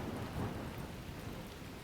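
Steady rain with a low rumble of thunder plays in the Donkey Kong Bananza video game, a dense, soft wash of noise throughout with no voices.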